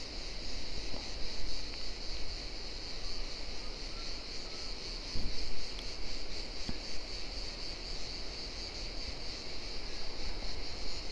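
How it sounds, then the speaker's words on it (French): Crickets chirp steadily among pine trees, a continuous high shrill drone filling the whole stretch, with faint wind and a few soft knocks underneath and no talking. "les grillons se sont remis à chanter parce que le soleil est revenu"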